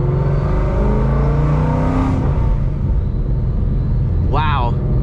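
A Ford Mustang GT fitted with a Whipple supercharger drives with a loud, steady engine roar and a rising rev sweep, the supercharger whine rising and falling through gear changes, constant throughout.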